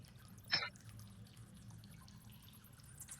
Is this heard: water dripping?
yes